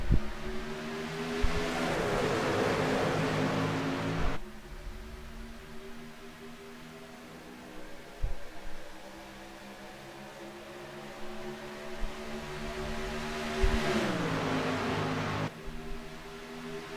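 Race cars lapping Texas Motor Speedway in a PC racing game make a steady, droning engine whine that climbs and drops with a couple of clear gear shifts, alone with no talking.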